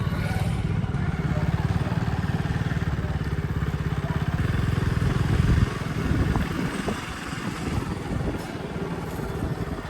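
A motorcycle ridden slowly on half clutch past a crowded temple, its engine chugging in a loud, rapid, steady rhythm up close before easing off into a rougher, quieter putter.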